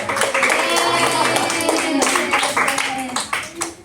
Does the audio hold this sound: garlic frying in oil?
no